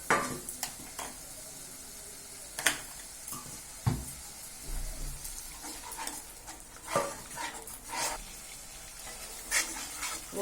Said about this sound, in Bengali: মশলাটা ভালোই ভাজা হয়ে গেছে দেখো তেল ছেড়ে গেছে